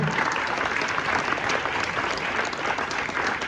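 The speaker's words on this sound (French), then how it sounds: "Vous pouvez l'applaudir s'il vous plaît." Sustained applause from a crowd of around 120 people at a brasserie stand-up comedy night, a loud even wash of clapping with no talk over it.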